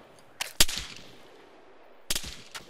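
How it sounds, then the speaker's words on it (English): Arma 3 gunfire: a couple of sharp close shots crack early, then after a quiet gap another quick pair of shots snap, with their echoes trailing off and no speech. "I'm being shot at from both sides."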